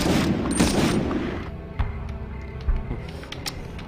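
Gunfire in the PS1 game Medal of Honor: a dense burst of shots at the start fading into a few scattered, thudding single reports, loud and somewhat muffled, with no talk over it.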